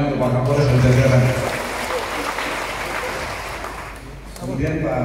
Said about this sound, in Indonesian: Tepuk tangan untuk Pak Kapolres dan jajaran.